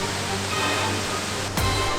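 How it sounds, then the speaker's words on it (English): Steady, broadband roar of a waterfall pouring over a cliff in southwest Oregon, constant and close, with a brief whoosh of wind or movement near the end. "this waterfall coming over this cliff is pretty impressive"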